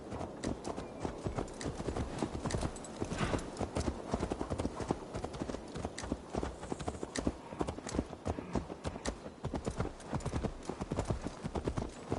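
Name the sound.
horse hooves clip-clop, from a video game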